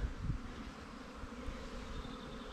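A soft, continuous buzzing of many honeybees at rows of hives, low and steady, heard at close range without voices.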